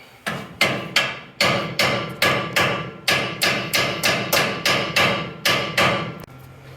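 Loud, repeated hammer blows ring out against a suspension part on a 1974 K-10 truck during a lift install, about a dozen sharp metallic strikes in a steady rhythm, each with a short ringing decay, and no talking.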